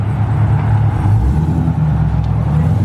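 A Cadillac CTS-V running in boost mode holds a loud, steady engine roar close by, droning evenly without clear gear changes.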